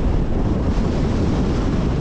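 Powerful typhoon wind sweeps the coast at Pagudpud, a loud, unbroken roar with heavy gusting against the microphone and a low rumble that may include breaking surf.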